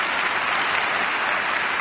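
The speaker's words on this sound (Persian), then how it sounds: "تشویق کنیم، حالا تشویق کنیم." Audience applause in a quiz gathering, a dense burst of steady clapping from many hands, loud and even for its full short length with no voices on top.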